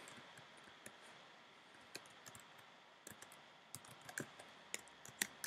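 Keys on a computer keyboard are tapped in short, irregular bursts of light clicks, quiet and close, with no talking.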